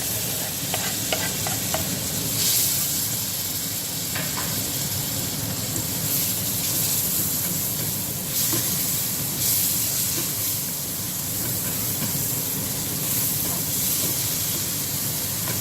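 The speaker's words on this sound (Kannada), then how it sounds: "so let it cook for 2-3 minutes so that tomatoes mashes a bit" Chopped tomatoes fry in masala with oil, a continuous close sizzle and hiss broken by occasional stirring scrapes, steady and loud throughout with no talking.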